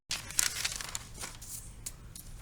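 Writing being erased in a classroom lesson, short rough scrubbing strokes in a few quick bursts, close and fairly quiet with no talk.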